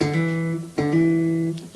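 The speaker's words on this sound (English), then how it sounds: "Hold the first finger down firmly and then hammer on with the third finger." A funk bass guitar note is held with the first finger, then a hammer-on with the third finger sounds a second note. Two clear, sustained pitches follow each other closely and play alone.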